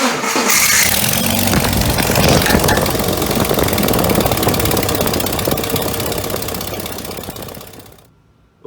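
A car engine cranks and starts, then runs with a loud, rough, vibrating rumble at close range for about eight seconds before cutting off abruptly.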